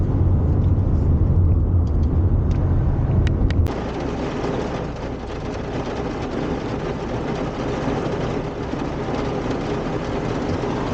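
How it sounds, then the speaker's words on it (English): Hail pelting a van stopped on a highway about 35 minutes from San Miguel de Allende in central Mexico: a dense, loud, steady roar of hard impacts on the vehicle body, with a heavier low rumble in the first few seconds. "35 minutes from San Miguel de Allende and stopped by a hailstorm."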